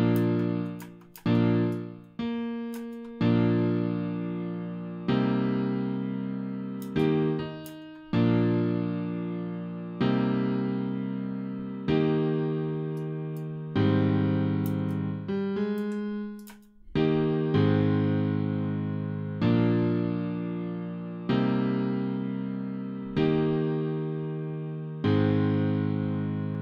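Chords programmed in FL Studio on a synth patch play as a steady sequence of sustained, buzzy chords. Each one starts sharply and fades, and the sequence repeats evenly with no talking.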